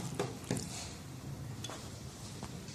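Beef tikka marinade with lemon juice and oil being mixed in a bowl: soft wet squelching and a few sharp utensil knocks against the side, fairly quiet and close.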